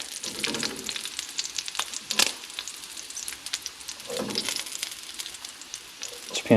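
Water hitting hot bacon grease in a frying pan sets off loud crackling and spitting sizzle, bursting in irregular pops and flare-ups that come and go over a steady hiss.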